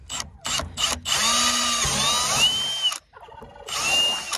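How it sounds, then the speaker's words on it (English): A power drill runs in steady high whines while a 5/16 bit bores a hole into a DIY chicken waterer, with short start-stop bursts at first, a sustained run, then a brief pause and a final burst. "So just drill that hole nice."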